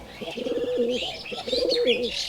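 A pair of local Rajshahi Giribaj pigeons coo close by in two rolling, throaty phrases, with faint chirps above and no talk.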